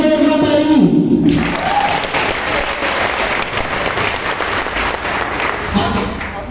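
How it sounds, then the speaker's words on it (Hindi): Loud applause from a large audience at an ISKCON drama performance in Noida, dense steady clapping that follows a brief voice at the start and carries on to the end. "तो बताइए जोरदार ताली"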